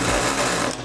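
A sewing machine stitches fabric for ladies' palazzo pants, giving a brief, steady mechanical whir close to the listener, with no talk over it.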